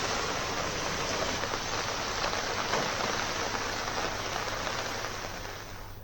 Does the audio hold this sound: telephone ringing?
no